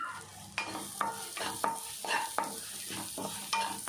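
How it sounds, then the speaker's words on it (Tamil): Onions fry in a pan while a spoon stirs them, about eight rhythmic scraping strokes over a steady, close sizzle. "வெங்காயம் நல்லா வதங்குற அளவுக்கு கிண்டி விடலாம்"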